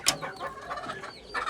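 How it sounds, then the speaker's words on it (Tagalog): Chickens cluck and squawk close by in a short burst, with a sharp squawk at the start followed by a run of quick clucks. "Ano, manok."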